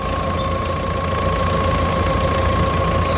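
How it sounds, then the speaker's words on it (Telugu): A Mahindra Thar diesel engine idles steadily and close by, a constant low rumble with a faint knocking texture and a thin whine above it, no voices. "సో ఇంజిన్ సౌండ్ చూసారు కదా"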